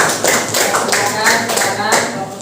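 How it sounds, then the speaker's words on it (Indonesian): A classroom claps for student groups after their presentations in an Indonesian school lesson, a dense run of many hands clapping close and fairly loud throughout, with some voices mixed in. "beri tepuk tangan untuk kelompok 1"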